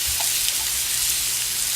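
Diced onion sizzles steadily in about two tablespoons of sesame oil in a pan, a constant close hiss of frying with no talk.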